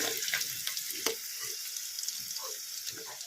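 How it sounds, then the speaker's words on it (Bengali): Oil sizzles steadily as vegetables fry, with occasional clinks and stirring scrapes close by. "এইভাবে করে লাল লাল করে সবজি ভেজে নিলে"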